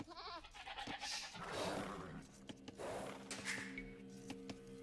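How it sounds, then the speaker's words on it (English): Sheep bleat in Age of Empires 2, several wavering bleats near the start and scattered calls afterward, set among game sounds and faint background music. "And thank you for buying me extra sheep."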